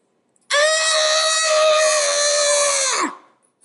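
A drawn-out, wailing scream serves as the effect for the Terrifying Screams ploy card in a Shadespire tabletop game. It is a single loud, tonal shriek lasting about two and a half seconds that ends abruptly, with no talk over it.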